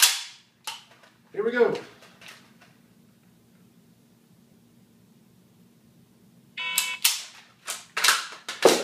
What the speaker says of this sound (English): Acquire target, dry fire, speed reload, hit it, dry fire again.